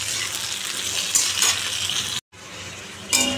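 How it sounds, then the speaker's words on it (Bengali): Pointed gourd fries with black cumin in a pan, giving a low continuous sizzle with a few brighter hissing bursts, briefly cut to silence before resuming. "কালো জিরে দিয়ে দিয়েছি, দিয়ে একটু এখন ভাজবো লাল করে"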